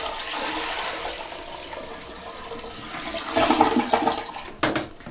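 A toilet flushes after a bucket of water is poured into the bowl, giving a steady rushing swirl of water that surges louder near the end, with a short splash at the close.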